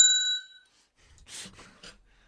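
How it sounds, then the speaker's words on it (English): A single bright bell ding opens the podcast segment, ringing clearly and fading within about half a second, followed by faint soft rustling. "I guess we gotta have the bell."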